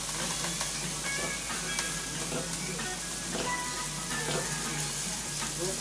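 Soy sauce and ketchup sizzle and hiss in a hot pan with kale, a loud continuous frying crackle with stirring and no talk over it.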